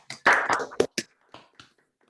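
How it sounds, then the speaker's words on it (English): Scattered claps from an online seminar audience after unmuting, a ragged handful of separate hand claps and taps coming through different microphones, quickly thinning out to silence. "If everyone could unmute yourself, and then I'll count to 3, and then we'll clap"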